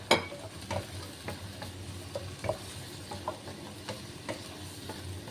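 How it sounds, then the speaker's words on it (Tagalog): Food stirred and fried in a pan for a simple Chinese-style dinner, with a steady background sizzle and scattered light scrapes and taps of the utensil against the pan, close and moderately quiet, with no talking. "Hinalo-halo ko na nga ito at hanggang sa maluto."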